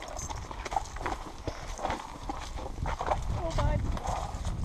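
Hooves of a gaited horse clip-clop steadily on the ground in an even, rapid rhythm, close by, while people talk over the footfalls throughout.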